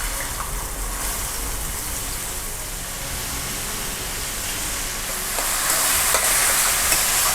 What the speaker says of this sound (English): You need to fry this onion till they are nice and golden